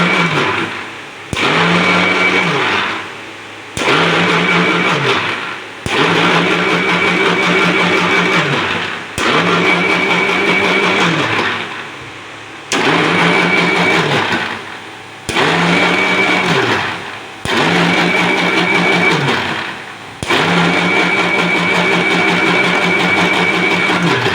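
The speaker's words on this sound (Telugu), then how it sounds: "అండ్ ఇప్పుడు మనం ఇది గ్రైండ్ చేసుకుంటాం" Mixer grinder blending khova for lassi runs in about eight loud, steady bursts of whirring motor noise with short pauses in between, close up and alone without talk.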